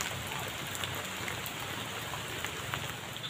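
Heavy rain pours down steadily in a village, a dense, even hiss of drops striking surfaces close by, unbroken for the whole stretch with no voices.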